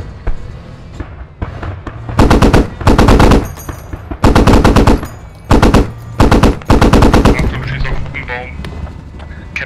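Sustained bursts of machine gun fire in a tactical military shooter game, several long loud volleys with short gaps between them, heard alongside a voice.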